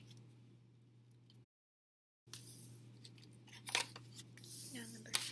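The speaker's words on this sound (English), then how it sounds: "now I'm going to glue down all of my frames, starting with number 1. Fold it over and do number 2." Paper frames of a tunnel book being glued down and folded, with soft crisp rustles and taps close by against a low steady hum, after a brief stretch of silence.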